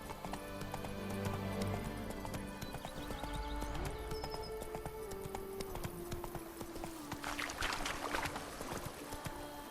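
Roach, the horse in The Witcher 3 video game, gallops with steady clip-clop hoofbeats over a dense game soundscape of music and ambience, loud and continuous throughout.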